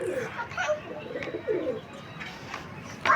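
Pigeons coo repeatedly in a rooftop loft, a cock bird displaying over a hen, with soft throaty calls and a few chirps close by and no talk.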